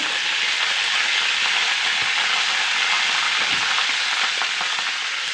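Cumin, curry leaves and garlic crackle and sizzle in hot oil, a steady dense hiss of frying with scattered pops, close and continuous throughout.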